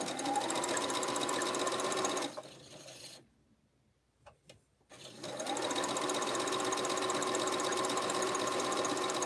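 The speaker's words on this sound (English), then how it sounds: "By sewing these pieces together, I won't lose the pieces." A sewing machine stitches table runner pieces together with a fast, steady mechanical whir. It stops for a few seconds, leaving a short quiet gap with a couple of faint clicks, then runs again at full speed.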